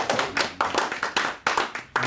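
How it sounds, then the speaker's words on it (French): A small group in a meeting claps, individual sharp hand claps landing in loose bursts with short gaps, close and fairly loud, with no talking. "Voilà, on les applaudit."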